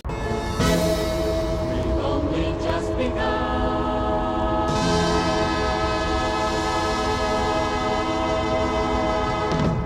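A train at Toronto's Union Station rumbles loudly and continuously, with a horn sounding and metallic clanks and screeches layered over the heavy rolling noise.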